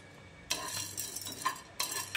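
Spoon stirring chana dal as it roasts in a pan, quiet scraping strokes in three short bursts with brief pauses between.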